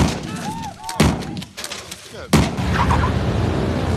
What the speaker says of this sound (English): She just starts to shoot the place up